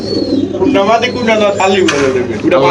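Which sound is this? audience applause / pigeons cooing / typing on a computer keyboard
pigeons cooing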